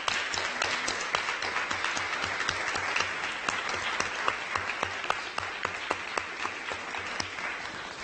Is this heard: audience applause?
yes